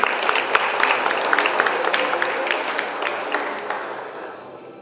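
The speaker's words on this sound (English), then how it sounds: "please a round of applause for this beautiful moment" Audience applause fills a hall at a gala dinner for Asian Para Games delegations, a dense, steady clapping with sharp individual claps standing out, sustained throughout and slowly tapering toward the end.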